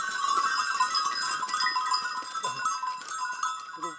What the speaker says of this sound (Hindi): ये देखिए भाई भाई साहब के बकरियाँ